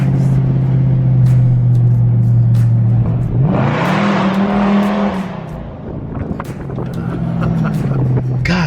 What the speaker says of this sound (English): Christine she be screaming, man, and I didn't even hit it, really. I barely even tapped the gas